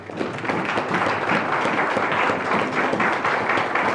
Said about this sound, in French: On peut acclamer la parole du Seigneur